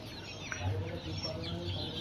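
Young Fayoumi chickens move about a farm, clucking softly and intermittently. The sound is faint and stays in the background throughout.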